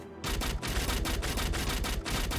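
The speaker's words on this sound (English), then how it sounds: "recoil on our little crossbow here, so I'm recoiling backwards" A crossbow fires repeatedly in the Shardbreakers video game, giving a fast, loud, continuous stream of rhythmic shots with brief regular gaps between bursts.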